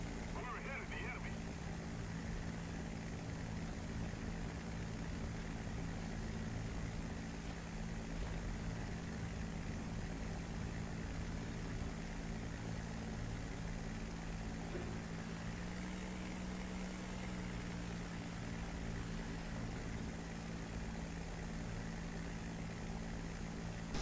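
A propeller aircraft engine in a flight simulator drones steadily and evenly throughout, a constant low hum with voices talking faintly over it.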